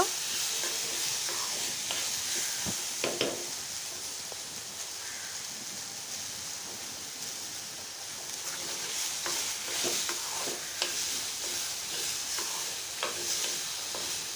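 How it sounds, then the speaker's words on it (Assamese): Soaked moong dal frying in a pan until crisp, giving a continuous close sizzle with steady hiss, broken by intermittent scrapes and taps from stirring throughout. "অকমান কাঢ়াকে ভাজিব।"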